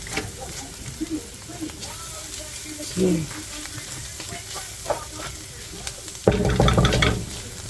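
Bacon and onion sizzle in a pan with a soft, continuous crackle and occasional stirring scrapes, a louder hiss flaring near the end while someone speaks.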